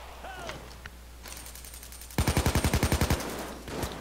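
Rapid automatic gunfire from Payday 2 sounds as a loud burst of about ten evenly spaced shots, preceded by quieter game noise and faint voices.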